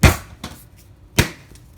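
A knife chops through canned biscuit dough into quarters, giving three sharp, close thuds against the board: two quickly at the start, then one more after a short gap.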